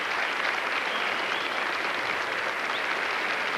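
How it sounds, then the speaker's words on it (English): A Grand Ole Opry audience at a country music evening breaks into steady, dense applause that holds at an even level throughout. "I think it deserves applause"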